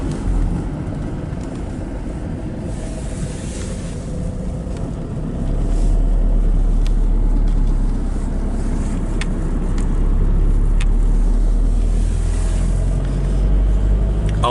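A car drives slowly past old tractors in Paulnay, a steady low engine and road rumble heard from inside, swelling slightly midway with faint wind and no talking.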